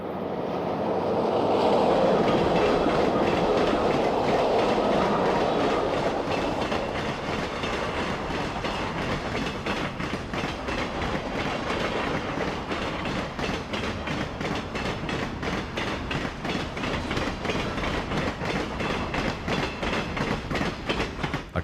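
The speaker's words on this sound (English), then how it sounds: "Here's another run-by of the same train." A passenger train with dome cars rolls past, first as a loud rushing approach and then as a steady rhythmic clickety-clack of wheels over rail joints that continues as the cars keep passing.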